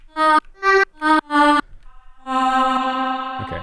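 Four short sung-like female vocal synth notes, bright and harmonic, from a Baby Audio plugin, followed by a longer held tone with a reverb tail fading out.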